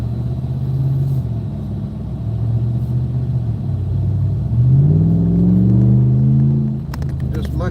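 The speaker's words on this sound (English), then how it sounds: "Just my truck is a little bit louder than hers." A pickup truck engine drones steadily at close range while driving, a low rumble that swells and shifts pitch as it accelerates, with a voice talking over parts of it.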